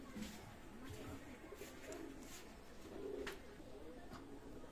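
Pigeons of the Teddy and New Order breeds coo softly in a low, repeated rhythm, with a few faint chirps and background noise mixed in.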